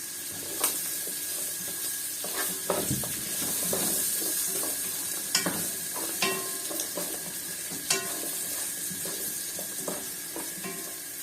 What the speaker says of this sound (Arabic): هحط بقى مطرحها البصل اللي احنا قطعناه ده